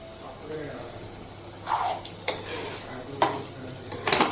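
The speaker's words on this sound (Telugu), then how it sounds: "తర్వాత మళ్ళీ ఎత్తుకోవడం, కలుపుకోవడం." A utensil scrapes and clanks in a pot while stirring gongura chicken as it cooks, with several close metallic knocks and a soft sizzle underneath, and a voice talks over it.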